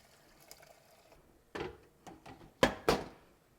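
Liquid is poured for a homemade organic turkey stock made from a Thanksgiving carcass and bones, heard as a few faint splashes and sloshing bursts close by, followed by a couple of louder gurgling pours.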